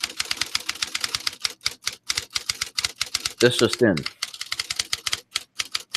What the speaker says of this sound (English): So fresh, I'm still typing it up.